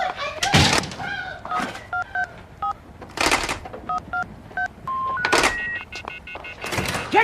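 Phone keypad being dialed for 911, a series of short distinct tones in bursts separated by louder clunks and rustles, close and fairly loud.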